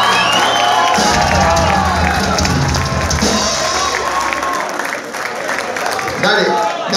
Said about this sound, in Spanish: Un aplauso para Castro